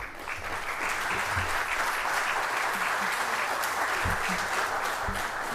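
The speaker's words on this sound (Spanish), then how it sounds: "Don Bolívar, bienvenido y fuerte el aplauso para recibirlo." Audience at a talk on thermal energy districts bursts into sustained, dense applause to welcome a guest speaker; steady clapping fills the room from start to finish with no pauses.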